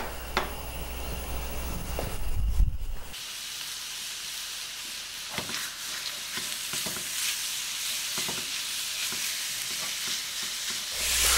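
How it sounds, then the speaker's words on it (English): Bacon fries in a pan as its fat renders, giving a continuous close hiss and sizzle with a few sharp pops and a brief clatter near the start. "What you're looking for is just rendering all the fat off the bacon"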